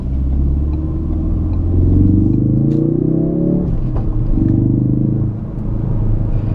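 A 2017 Ford Focus RS turbocharged engine revs up under acceleration, a loud close rumble rising in pitch, dropping sharply at a gear change, then building again, with slight turbo lag.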